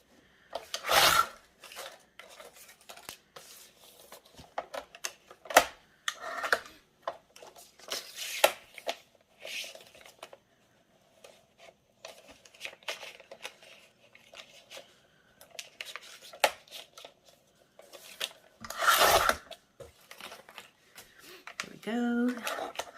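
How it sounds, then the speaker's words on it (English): A paper trimmer slices along the edges of paper sheets, giving repeated short rasping, scraping cuts spaced irregularly with quiet gaps between strokes. "And then next, I want my paper trimmer."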